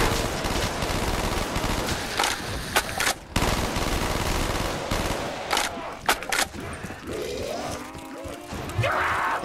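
Sustained automatic fire from an AUG rifle in a Black Ops 3 Zombies custom map, loud rapid bursts with brief pauses, mixed with game effects and zombie noises toward the end.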